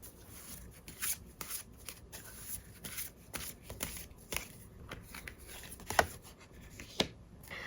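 Tarot cards are shuffled and drawn close by, in a quiet run of soft, irregular riffles and flicks with a few sharper snaps, and no talk.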